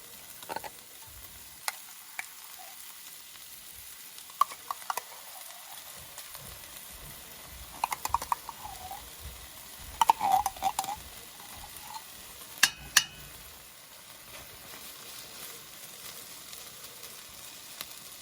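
Tomato paste sizzles in a pan for a beef short rib bolognese, a low steady fry punctuated by scattered stirring scrapes and small pops, with no voices.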